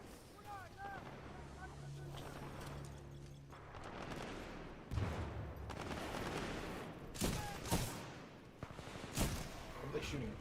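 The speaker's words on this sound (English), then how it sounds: "What are they shooting at?" Distant gunfire rattles in bursts during a Titanfall 2 campaign mission, mixed with wind and rumbling ambience, and several sharper shots stand out near the end.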